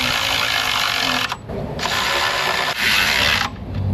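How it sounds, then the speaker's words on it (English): A ratchet wrench tightening oil filter housing nuts on a 2017 Dodge Ram 3.6 during an oil leak repair, loud close clicking in continuous bursts separated by brief pauses. "Might have looked like it went tight, but I let the ratchet go if you saw that."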